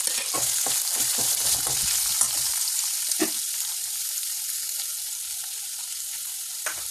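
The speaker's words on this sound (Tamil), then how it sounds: "இப்போ வெங்காயத்தை சேர்த்து வதக்க போகிறோம்" Onions sizzle and fry as they are sautéed in a pan for a nawabi potato dish, a bright, steady crackle with a few stirring knocks early on, fading to a quieter hiss.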